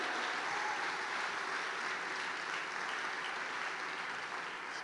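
A church congregation applauds loudly and steadily at a service, a dense wash of clapping that holds at full strength throughout with no voices over it.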